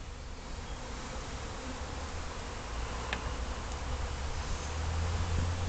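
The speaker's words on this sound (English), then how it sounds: "I dropped a bunch of bees over here on the ground, over by the chickens, so for their sake, they better get back to the hive" Bees swarm around a backyard beehive, a dense, continuous buzzing hum that builds slightly in loudness over several seconds, heard close and alone.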